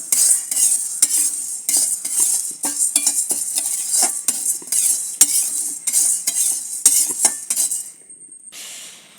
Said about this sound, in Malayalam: പരിപ്പ് ഗോൾഡൻ ബ്രൗൺ നിറമാകുന്നത് വരെ വറുത്തെടുക്കാൻ നമ്മൾ അടുപ്പിൽ വെച്ചിട്ടാണ് വറുത്തെടുക്കുന്നത്.